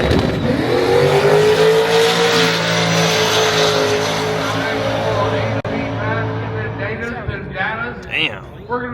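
A drag racing car at a street car takeover event roars as it accelerates down the strip, a loud sustained engine note with rising revs that fades away, while people talk nearby toward the end.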